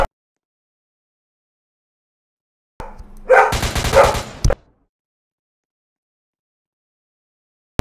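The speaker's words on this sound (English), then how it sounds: "my dog is barking right now" A pet dog barks in a quick burst of several close, loud yaps in a row, then falls silent, with near quiet before and after.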